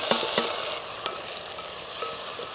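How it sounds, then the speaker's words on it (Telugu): Tomatoes, garlic, dried red chillies and curry leaves fry in hot oil for garlic rasam, a steady close sizzle broken by a few sharp spoon scrapes and clinks against the pan. "1 చెంచా పసుపు 1 చెంచా ఉప్పు వేసుకుని మెత్తబడే వరకు వేయించుకుందాం"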